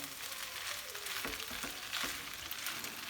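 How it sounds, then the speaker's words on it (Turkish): Fettuccine with salmon and cream is stirred in a large pan, a quiet steady sizzle broken by a few soft scraping strokes up close. "Hemen karıştırıyorum."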